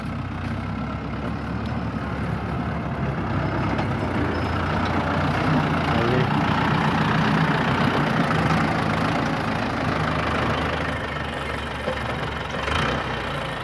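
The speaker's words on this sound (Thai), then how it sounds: "เป็นรถไถฟอร์ดใหญ่ครับตัวนี้ ฟอร์ดฮอลแลนด์นี่ครับ" A large Ford Holland tractor ploughs a rice field, its diesel engine droning steadily and loudly at close range without a break, with no talk over it.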